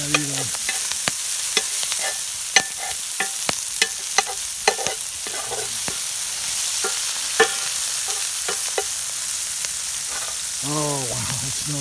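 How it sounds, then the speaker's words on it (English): Onions and peppers sauteing in a Dutch oven, a constant close sizzle broken by frequent sharp clicks and scrapes of a utensil stirring, with a brief squeal near the end. "Something about sauteing onions and peppers."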